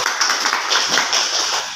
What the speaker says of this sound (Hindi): ताली बजाते रहिए सब लोग